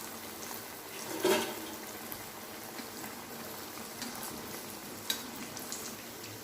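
Chickpea vadai fritters bubble in hot oil, a soft continuous frying hiss with one brief louder splash early on and a faint click later, quiet and close.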